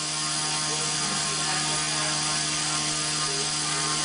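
A small Axius CP / Axe 100 hybrid RC helicopter hovering in 6-axis mode, with a steady high-pitched motor whine and constant rotor buzz, close and unbroken.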